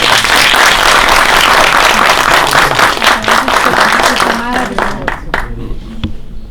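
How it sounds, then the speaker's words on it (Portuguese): A crowd applauds loudly and steadily, the clapping thinning out toward the end as a voice starts to speak over it. "Uma salva de palmas para ela."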